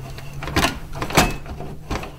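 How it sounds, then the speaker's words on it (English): A Gottlieb pinball machine's metal coin door is swung shut, giving a few close, sharp clacks and rattles spread over two seconds, with steady low hum beneath. "if you don't push that up, you won't be able to close the door."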